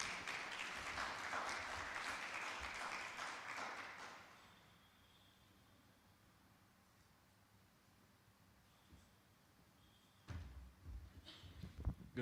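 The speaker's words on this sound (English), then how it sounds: "Please welcome Abel with a round of applause to the podium." An audience at a live-streamed event applauds loudly for about four seconds before the clapping fades out, leaving a quiet room with a few faint knocks and shuffles near the end.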